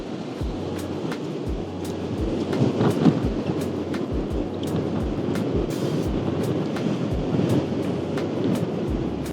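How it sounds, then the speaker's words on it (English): Strong wind blows outdoors in Antarctica, a steady roar with buffeting gusts and low rumbling thumps against the microphone, continuous and loud throughout with no voices. "Oh, it's getting windy."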